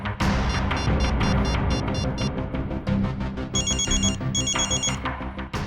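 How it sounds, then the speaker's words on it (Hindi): A mobile phone ringtone rings loudly and steadily, a bright electronic melody repeating throughout with a dense backing beat and no talking over it. "मेरे फोन करने पर अलग तरह की रिंग बजी?"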